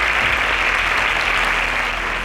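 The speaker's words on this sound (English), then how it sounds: "A round of applause for her." A studio audience claps for a contestant at the end of a televised quiz round, a loud, even burst of massed applause that holds steady for a couple of seconds with no talk over it.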